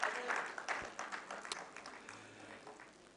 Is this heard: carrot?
no